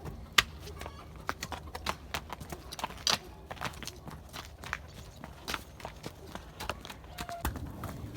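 Irregular hoofbeats of a mare moving quickly over hard ground, close by, with occasional voices in the background.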